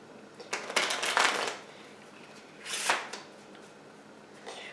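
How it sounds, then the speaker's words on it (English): Playing cards are given a sloppy, loose shuffle by hand, two soft rustling bursts of cards sliding and flipping, close and fairly quiet, separated by a pause. "Now I'm also going to do what you call a sloppy shuffle."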